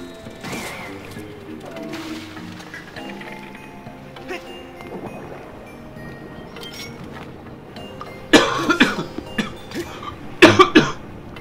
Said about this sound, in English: I apologize for this coughing here, you guys.